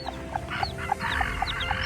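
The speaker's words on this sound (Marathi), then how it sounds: "ही रानातली कोंबडी बघा किती पिलं काढले तिने" Chicks of a free-ranging hen peep in a quick, regular series of high chirps, with soft clucking and rustling close by.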